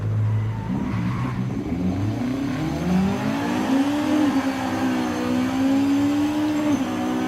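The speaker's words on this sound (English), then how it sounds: "Look how the car's performing off the launch." A 300-horsepower Acura Integra Type R launches hard, its engine droning and rising steadily in pitch as it accelerates, with a loud, continuous tone and no talking.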